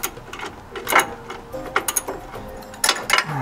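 A wrench works loose the lower shock absorber bolt on a Fiat, among brake pipes, during a swap to Koni shocks; close metallic clicks and ratcheting come in short irregular bursts with no talk.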